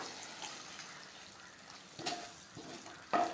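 Water splashes and trickles softly into a pan of masala for a tuna dish, with a few brief louder pours over a faint simmering background.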